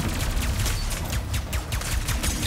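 Rapid volley of nail bullets fired in Ratchet & Clank: Rift Apart, a dense, loud stream of sharp gunshot-like bursts with booming low end, continuous across the whole stretch with no talk.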